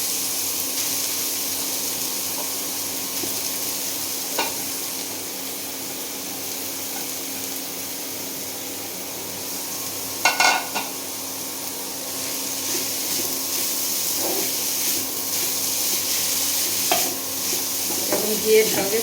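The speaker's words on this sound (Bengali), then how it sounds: "গাজর আমি ভেজে নেব" Carrot pieces fry in hot ghee with cinnamon and cardamom, giving a steady close sizzle while a spoon stirs and scrapes, with a few sharper clinks against the pan scattered through; no one speaks.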